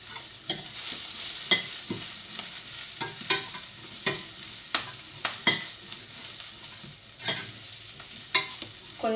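Sliced onion frying in a pan, stirred with a utensil: steady hiss of sizzling oil broken by repeated scraping stirs at an uneven rhythm, close and fairly loud, with no talking.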